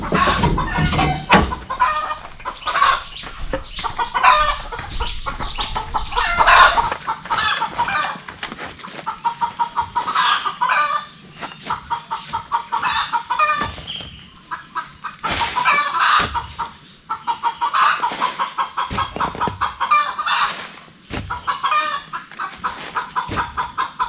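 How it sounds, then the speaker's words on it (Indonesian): Chickens on a small farm cluck nearby in a busy, overlapping chorus, with sharp rhythmic clucks and occasional louder squawks running throughout. "Ada ayam gak ada indukan?"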